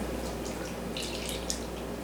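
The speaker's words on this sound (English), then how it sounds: "Pour that in." Liquid poured into a sweet potato casserole dish in a home kitchen, a steady soft trickling and splashing under a constant background hiss, with faint drips toward the end.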